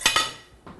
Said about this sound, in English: Get rid of these knives.